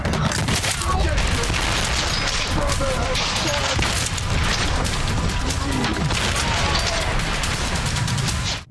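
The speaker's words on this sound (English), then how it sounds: "I'm happy to say that the shotgun is up to par." Shotgun fire in the first-person shooter Trepang2: loud, dense blasts and crackling gunfire fill the whole stretch without a break, thick low booms layered under sharp bursts.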